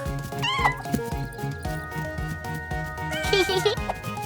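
Several high, wavering meows ring out over busy background music, one early and a cluster near the end.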